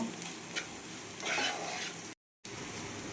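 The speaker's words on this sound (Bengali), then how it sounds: "দেখুন এখানে আমি অল্প অল্প করে জল দেবো আর নাড়াতে থাকবো।" Semolina roasting in a pan for spicy sujir pulao is stirred as water is added a little at a time, giving a close sizzle with scraping stirs and a brief swell of steam, cut by a short silent gap.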